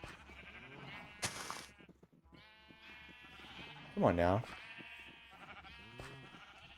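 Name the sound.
sheep bleating in video game Minecraft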